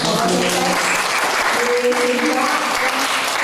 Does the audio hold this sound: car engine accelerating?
no